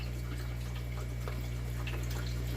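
Water trickles steadily into a small fry tank, fed by a plugged-in air pump, with a low constant hum underneath and faint bubbling, close and quiet throughout.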